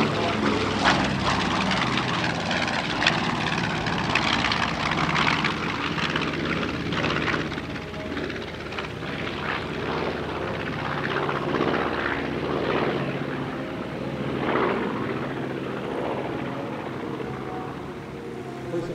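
Propeller engines of a 1944 B-25 bomber at an airshow, a steady loud piston drone with a thick low rumble that holds for the full stretch with slight swells, no voices.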